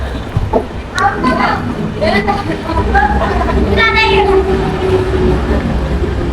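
A low, steady train rumble fills the background at a railway station while people talk close by, aboard a Mumbai to Nagpur train.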